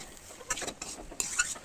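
Potatoes stirred and sautéed in a pan of spiced oil while cooking a small-potato curry, giving soft scraping strokes of a spoon against the pan over a faint steady sizzle, close and unaccompanied by talk.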